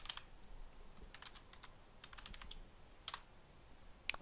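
Typing commands on a computer keyboard in a home hacking lab setup running Kali Linux: quick clusters of light key clicks in uneven bursts, quiet and close, with no talk over them.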